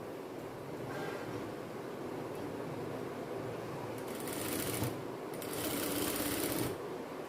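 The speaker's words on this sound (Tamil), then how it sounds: "இப்போ பின் பண்ணதுக்கப்புறம் நம்ம ஸ்டிச் பண்ண ஆரம்பிச்சிடலாம்" A sewing machine stitching a silk pattu pavadai skirt for a girl, a faint, steady whirring hum running throughout, close and continuous, with no talking.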